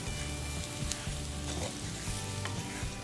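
Brinjal puli spice mixture sautéing in a pan, a steady close sizzle with faint stirring scrapes running throughout.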